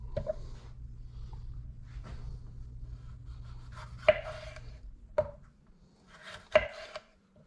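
A knife chops food on a cutting board while a stuffed rump roast is prepared, with a few scattered soft cuts and then several sharp, distinct knocks spaced apart in a quiet room.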